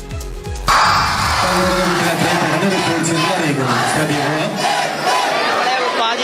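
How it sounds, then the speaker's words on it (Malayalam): A school audience at a Palestine solidarity mime performance bursts into loud, sustained crowd noise, with rhythmic shouted slogan chanting and clapping that continue without a break after a sudden start. "അവതരണം അവസാനിപ്പിച്ചപ്പോൾ കയ്യടികളും ഉയർന്നു, ഒപ്പം വീണ്ടും മുദ്രാവാക്യങ്ങളും."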